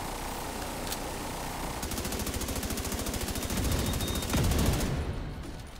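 Rapid automatic gunfire during a video game raid, a steady stream of fast shots that starts partway through and keeps hammering loudly for several seconds before cutting off.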